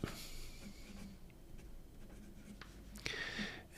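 Soft, continuous scratching of a BBS 252 fountain pen with a medium nib gliding across paper, close and quiet against a faint background hiss, with a brighter stroke near the end.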